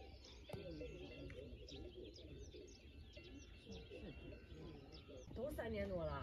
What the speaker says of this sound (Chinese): 听听这小鸟的叫声，